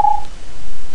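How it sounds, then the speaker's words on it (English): TweetDeck notification sound on Windows 7: a single short electronic tone at the very start, then a faint hum of steady background noise for the remaining second. "you could change the notification sound."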